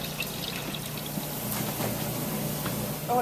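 Filtered water poured into masa in a Tupperware container, a soft steady trickle and pour heard close up. It swells near the end.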